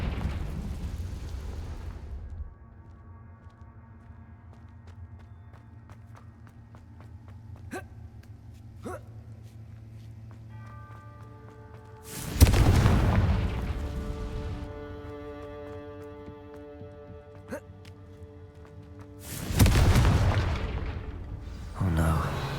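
Confringo blast curse from Hogwarts Legacy erupts in two loud booming explosions with a crackling tail each, separated by a few seconds of quieter game ambience and tones, with a voice speaking between them.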